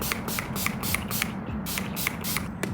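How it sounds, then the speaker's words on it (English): Urban Decay All Nighter setting spray pumped in quick repeated bursts, about a dozen short hissing sprays close to the listener, alone. "I'm gonna go in with the Urban Decay All-Nighter Spray."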